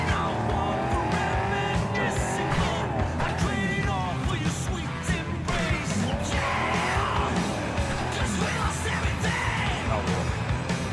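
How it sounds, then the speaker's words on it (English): A car crash in the Cyberpunk 2077 video game: engine roar, tire squeal and skidding run through the whole stretch, loud and continuous, with yells mixed in. "Did crash into a car though."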